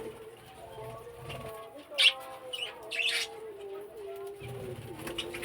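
Pet budgerigars chirping and cooing softly while they eat leaves, with a steady low chatter and a few sharper tweets, close by.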